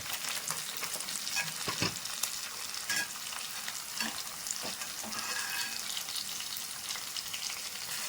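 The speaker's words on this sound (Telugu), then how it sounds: "ఆనియన్స్ ఇలాగ వేగాలి. ఇలా వేగితేనే మనకి కర్రీ అనేది చాలా టేస్ట్ అనిపిస్తుంది" Onions fry steadily in a pan for a goat leg curry, giving a dense, continuous sizzle close by, with occasional scrapes and stirring clicks over the crackle.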